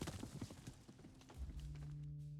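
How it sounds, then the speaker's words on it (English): Horse hooves clip-clop in a steady rhythm while riding in the video game Above Snakes, fairly close and moderately loud, with no voices over them. "we're going to take our horse and we're going to ride our horse"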